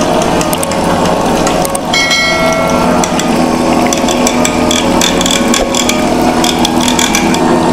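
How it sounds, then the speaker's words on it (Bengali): A cream separator machine, able to run without mains power, runs loudly and continuously with a dense whirring drone layered with rapid ratcheting, gear-like clatter throughout. "এই যে আমাদের ক্রিম সেপারেটর মেশিন। দেখেন এই যে ক্রিম করতেছে"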